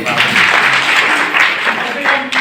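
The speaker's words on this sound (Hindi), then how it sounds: "चलिए आपके लिए एक जोरदार ताली बजाइए।" A training-session audience in a block meeting hall claps together, a dense rush of hand claps at fairly loud level, with murmuring voices running beneath.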